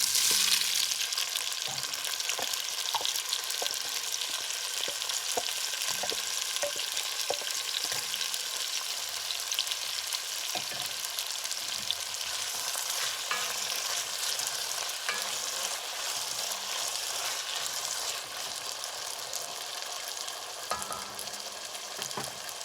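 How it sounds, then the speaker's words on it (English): Tomatoes and garlic sautéing in a pot for Mexican meatball soup, a dense, even sizzle heard close up with repeated spoon scrapes and stirring knocks throughout. "Now I'll add in the tomatoes and garlic."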